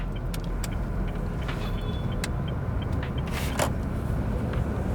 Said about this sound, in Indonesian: Jadi gue mau agak sedikit bawa bejek dikit aja mobilnya.